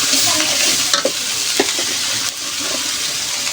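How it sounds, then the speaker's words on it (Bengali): Spice paste with garlic and turmeric fries in a pan while being stirred, giving a loud, close sizzle broken by quick scraping and tapping strokes of the spoon. "এই মশলাটা ভালোভাবে কষাই নেব,"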